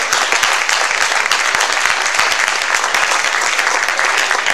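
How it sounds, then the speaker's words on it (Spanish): A large church congregation applauds steadily and loudly, a dense wash of clapping that holds without a break. "Dile un aplauso al Señor por la fe."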